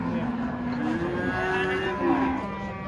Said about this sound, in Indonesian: Sapi unik.